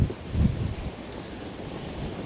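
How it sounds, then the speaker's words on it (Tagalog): Strong ocean surf pounding and washing near the shore at a fishing spot on a rough day, a continuous low roar buffeted by heavy wind noise on the microphone, loudest in the opening half second. "Sobrang lakas ng alon eh."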